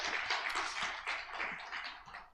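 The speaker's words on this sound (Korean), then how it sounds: "박수로 축복을 해주시길 바랍니다" A church congregation at a Sunday service at Andong Bukbu Church in Korea claps together, a dense, even patter of many hands sustained throughout before tapering slightly at the end.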